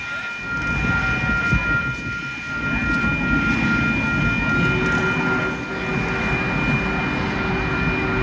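Union Pacific Big Boy 4014 steam locomotive passing with its train near Rochelle, Illinois, a loud steady rumble and rolling clatter lasting throughout, with a whistle-like tone held above it.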